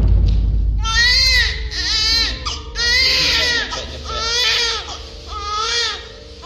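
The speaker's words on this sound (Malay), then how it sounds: "kedengaran di luar tingkap seakan ada suara bayi menangis" A baby cries in loud, repeated wailing bursts with short pauses between them, close and continuous over a low background hum.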